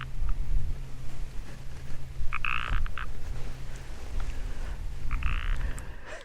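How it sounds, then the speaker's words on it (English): A frog croaks repeatedly close by in an outdoor setting, its short rasping calls coming in a few bursts over a steady low background hum, with no one talking. "You guys hear that frog behind me?"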